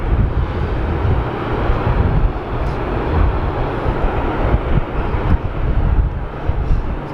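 A Qantas retro livery airliner taxiing after landing at Sydney Airport makes a loud, steady, broadband engine rumble, with heavy wind buffeting the microphone throughout.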